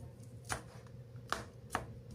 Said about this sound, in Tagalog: Isunod po nating hiwain yung red pepper, onion,